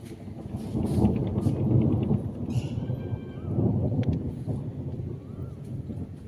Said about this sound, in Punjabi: ਤੁਸੀਂ ਦੇਖ ਸਕਦੇ ਬੱਦਲ ਕਿੰਨਾ ਗੱਜਦਾ ਹੈਗਾ